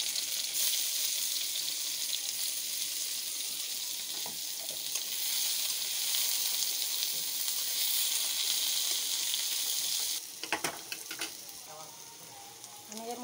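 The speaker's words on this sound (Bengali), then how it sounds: "সরষের তেল দিয়ে দিয়েছি, এর মধ্যে দিয়ে দেবো আমি কাঁচা পেঁয়াজ।" Raw onion fries in mustard oil with a continuous, even hiss and sizzle, and a few clattering stirs break in near the end.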